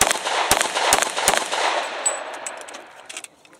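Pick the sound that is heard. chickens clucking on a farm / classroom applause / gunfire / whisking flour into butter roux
gunfire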